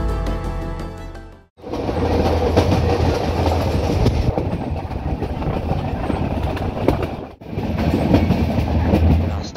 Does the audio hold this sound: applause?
no